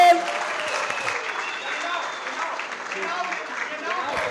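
Audience applause at a darts event in Vienna, a sustained wash of clapping from a crowd with talk mixed in over it.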